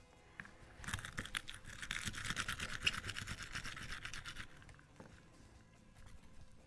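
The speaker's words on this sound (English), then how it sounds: "We're just gonna go ahead and use the garlic peeler and we're gonna peel our garlic." Garlic cloves rolled and rubbed in a garlic peeler, a dense rapid scratchy rustling and pattering burst of a few seconds, close and fairly quiet, tapering off into lighter clicks.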